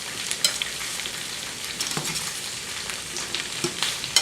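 Sausage, mushrooms and red pepper frying in a pan, a steady close sizzle broken by occasional pops and crackles and light stirring scrapes.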